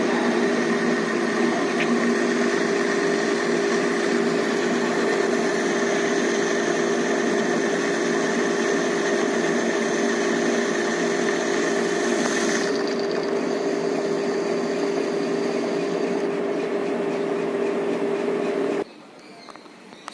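Metal lathe turning a taper with the tool advanced by angular feed: a steady machine hum with a sustained whine and tonal bands throughout, shifting character near the end before cutting off abruptly, no voices.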